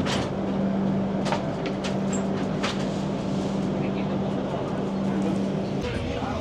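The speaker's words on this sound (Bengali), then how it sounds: "ট্রেন আমাদের ছেড়ে দিল তমলুক স্টেশন।" Tamralipta Express pulling out of Tamluk station, a steady low rumble of the moving train with a sustained hum and a few sharp clanks, loud and close, all the way through.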